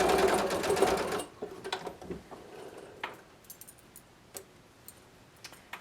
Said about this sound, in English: gonna go ahead and sew my shoulder seams too now.